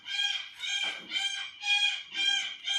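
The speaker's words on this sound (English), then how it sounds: "I have a house full of parrots" Parrots in a house squawk in a run of about six loud, repeated harsh calls, close by and evenly spaced, with no voices.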